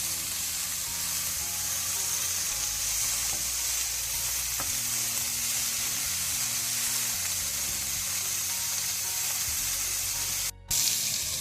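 Chopped tomatoes for a South Indian tomato chutney fry in a pan with a continuous loud sizzle and hiss, broken by a few soft stirring knocks and a brief drop near the end.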